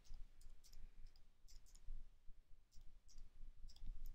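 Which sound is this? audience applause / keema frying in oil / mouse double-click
mouse double-click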